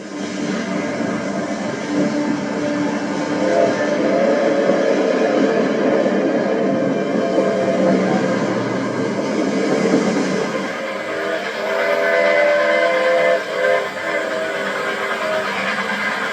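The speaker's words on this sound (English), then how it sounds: "3751 leads her train under the signal bridge as oncoming traffic is stopped to allow the special to cross over" Steam locomotive 3751 hauling a passenger special under a signal bridge, a loud continuous rail rumble with rolling wheel noise and tonal layers that shift partway through, steady throughout with no voices.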